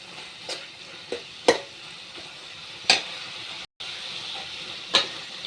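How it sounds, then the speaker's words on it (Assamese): Tomatoes, peas and jaggery frying together in a pan, a low steady sizzle punctuated by several sharp scraping stirs spaced a second or two apart, with no talk. "বিলাহী, মটৰ, গুড় মিলাই ভাজা হৈ গ'ল।"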